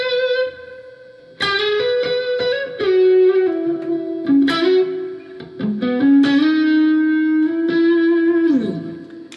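Electric guitar lead tone run through an amp effects loop with Axe-FX effects, a distorted sustained melodic line with bends and held notes, played alone without talk.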